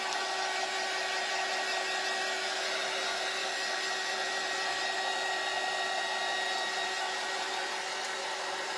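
A hair dryer blows steadily on a handmade craft gnome shelf sitter, a constant close whooshing hum with a thin whine that runs unbroken throughout, with no talking.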